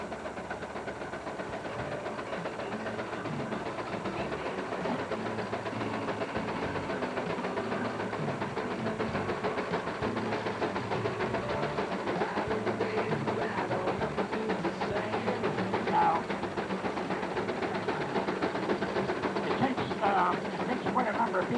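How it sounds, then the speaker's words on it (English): A 1920 Case 50-horsepower steam tractor chugs along steadily nearby, its engine noise continuous and moderately loud, with people talking faintly in the background. "Here comes the Case 1920 model steam tractor, 50 horsepower steam tractor."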